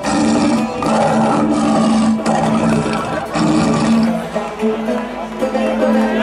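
A tiger accompanying a princess in an animated fairy-tale film lets out loud, sustained, rumbling roars that run almost continuously, briefly easing off toward the end.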